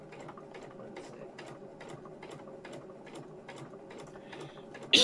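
A domestic sewing machine stitches fabric in a steady run of rapid, evenly spaced mechanical pulses, close and moderately loud, with a louder bump right at the end.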